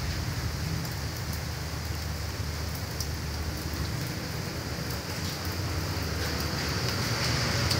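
Steady rain on a rainy day, a continuous close hiss of drops falling on surfaces with scattered individual taps and no speech.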